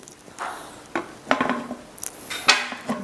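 A pressure cooker lid being closed: a few sharp metallic clinks and scrapes of the metal lid against the pot, spaced irregularly and close up, with no talking.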